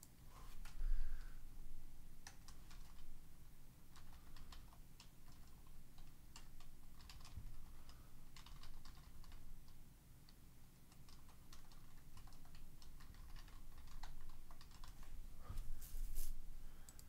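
Code being typed on a computer keyboard, irregular bursts of close, crisp key clicks and taps with short pauses, continuing for the whole stretch over a faint room hum.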